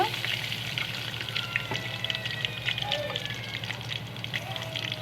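Garlic and onion sauté in a pan with a steady, close sizzle and a few scattered stirring scrapes, and no one talks.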